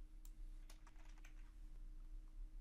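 Fingers tapping out a short title on a computer keyboard, a quick burst of light clicks up front followed by sparser taps, faint and close against a low steady hum.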